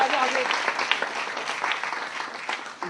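An audience applauds a young man at a public gathering, broad steady clapping throughout with a voice speaking over it near the start.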